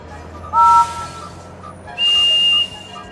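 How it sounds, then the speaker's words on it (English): Two steam locomotive whistle blasts from a Thomas & Friends video game, each a clear tonal toot lasting about a third to half a second, loud and close, with a gap between them and no talk. "Can you hear a whistle like Percy's?"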